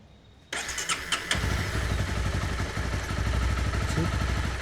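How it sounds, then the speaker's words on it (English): A 2013 Honda CBR250R motorcycle engine cranks and catches after a brief pause, then settles into a close, loud, rapid idle with a clattering pulse. "Start the engine"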